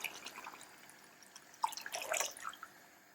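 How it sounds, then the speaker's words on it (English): Hot water trickles and splashes into a pot for braising lamb, a close, uneven run of drips and pours that swells in the second half before tapering off. "I'm adding some more water."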